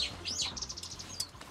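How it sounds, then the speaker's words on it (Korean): Small birds chirp in quick high tweets in a persimmon orchard in Jeju, with a brief flutter of wings, fairly close, in a short burst over quiet outdoor background. "아유, 새들이."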